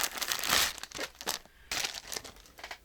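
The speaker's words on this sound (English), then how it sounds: "I gotta get rid of the plastic bags." Plastic bags crinkled and handled while sorting lace and craft supplies, giving close, bursty rustling and crackling in several bouts with short pauses between them.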